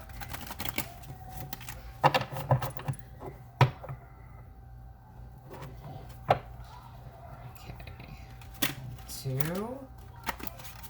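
Tarot cards are shuffled by hand indoors, giving soft papery riffles and sharp taps against a table at irregular intervals, with a faint hum in the background and brief low vocal sounds.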